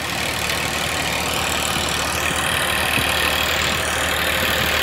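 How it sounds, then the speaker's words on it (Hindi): A Massey Ferguson 7250 DI 50 HP tractor runs steadily at low revs while pulling a 7-foot rotavator, its engine a continuous broadband drone and rumble heard up close with no talk over it. "देखिए 7250 क्या शानदार रोटावेटर खींच रहा है।"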